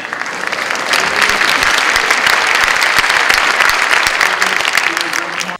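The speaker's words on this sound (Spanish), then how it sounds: "La medida fue recibida con una ovación." Loud, sustained ovation from a large audience at a climate summit, dense applause filling the whole stretch at an even level and cutting off at the end.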